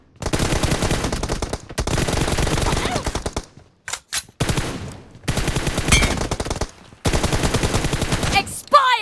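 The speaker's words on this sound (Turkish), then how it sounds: "Bu da çok stabil mermi atıyor." Automatic gunfire from a weapon in the PUBG Mobile video game, heard as long sustained bursts of rapid shots broken by short silent gaps, loud and close, with no voices.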